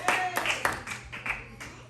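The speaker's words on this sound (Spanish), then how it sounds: "Dele un fuerte aplauso al Señor" A church congregation claps for the Lord during a worship service, a dense run of hand claps with irregular bursts over about two seconds, fairly close, with a low steady hum beneath.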